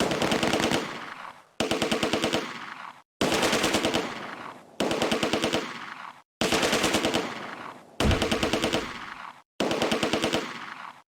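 Soldiers' automatic gunfire in the WWII strategy game Close Combat: A Bridge Too Far, loud machine-gun bursts in seven repeated volleys of rapid rattling shots, each about a second long with brief gaps between, no talk.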